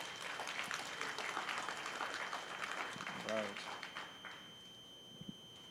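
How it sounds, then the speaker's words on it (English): Audience clapping at an Atlassian user group meeting, a steady patter of many hands for several seconds under murmuring, with a brief voice partway through before the applause thins out. "So a little clap"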